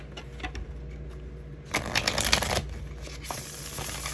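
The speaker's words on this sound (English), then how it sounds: "I'm trying to get a good shuffle out here." A deck of tarot cards is shuffled by hand, with a soft riffling burst in the middle and another brief flurry near the end, close and fairly quiet.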